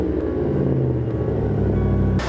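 A Ford F-150 truck engine rumbles deep and steady at close range, unbroken throughout with no talking over it.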